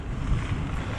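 Headwind buffets the microphone on a loaded bikepacking ride along a rail trail, a loud low rumbling wind roar that fills the whole second with no talking.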